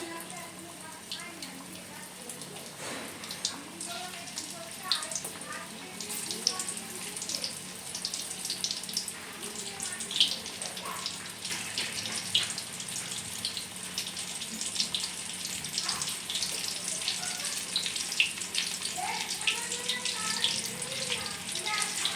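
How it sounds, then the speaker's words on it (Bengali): Chicken pakoras frying in hot oil, a steady broadband crackle and hiss running the whole time with scattered small pops, fairly quiet and close, with no voices over it. "বাকি পকোড়াগুলো এইভাবে ভাজতে দিয়ে দেবো"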